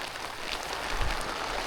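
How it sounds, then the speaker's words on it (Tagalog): Heavy rain pours outdoors during a solo motorcycle camping trip, a dense, constant broadband hiss with no pauses, fairly loud and steady. "Yan, umulan na po. Ang lakas."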